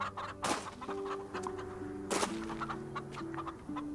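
Chickens cluck in the farming video game Farm Together, a series of soft, repeated clucks at a moderate distance, with two brief sharper bursts and a faint musical tone underneath.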